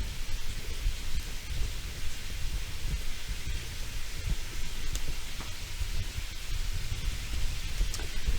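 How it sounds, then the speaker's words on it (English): Sausage sizzles in a pan as a steady, close hiss with scattered pops and low thumps underneath. "I hear my sausage sizzling."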